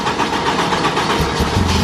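A Honda-swapped pro truck engine idles steadily and loudly up close, a continuous mid-pitched rumble with a slight shift in tone near the end.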